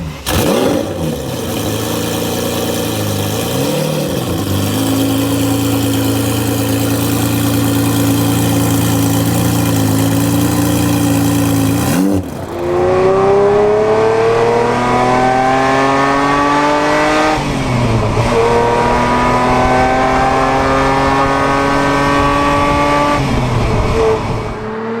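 A Ferrari Boxer engine runs loud and close, rising and falling through repeated revs with a harsh mechanical drone, a brief drop near the middle, then climbing again; no voices.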